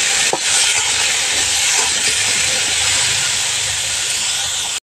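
Potatoes fry in a pan until reddish-brown, giving a loud, steady, close sizzle that holds throughout and cuts off abruptly at the end.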